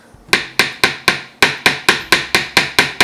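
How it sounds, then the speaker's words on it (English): A metal meat tenderizer hammer taps a bar of soap in a steady series of about a dozen sharp, loud knocks, close up and evenly spaced, with no voices. "So I've got this like meat tenderizer hammer thing here."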